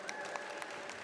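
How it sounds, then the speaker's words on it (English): An awards-night audience applauding an honoree, a brief stretch of soft, steady clapping heard from a distance. "Let's hear a round of applause for Lanita."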